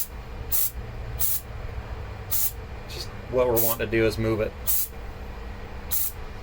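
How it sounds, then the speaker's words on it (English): Sharp bursts of spray cleaner hiss out at regular intervals onto a Troy-Bilt lawn mower carburetor, several short blasts, while someone speaks briefly in the middle. "Let it soak for a second, spray it away."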